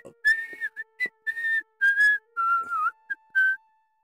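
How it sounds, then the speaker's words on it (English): Someone whistles a tune from a movie in short, clear, close melodic phrases broken by little gaps, with no speech. "some random whistle that I saw in some movie that I forgot about"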